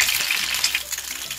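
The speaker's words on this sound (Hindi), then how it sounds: "पैन को बस हम हिलाते जाएंगे और अंडे खुद ही फ्राई होते जाएंगे घूम घूम के।" Eggs sizzle and fry in a pan being shaken on the stove, a loud, steady crackling hiss with slight surges as the pan moves, close up and without voices.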